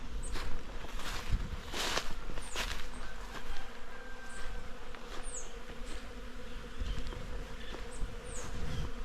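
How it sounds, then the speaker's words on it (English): Dense buzzing of many bees swarming in a tree close by, a steady droning hum with occasional rustles and shuffling movement nearby. "That's the sound of bees."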